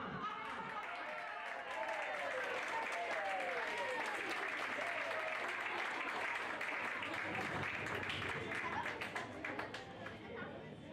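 Steady audience applause at an outdoor horseback archery awards ceremony rolls on for several seconds, distant and crowd-wide, with scattered voices chattering underneath.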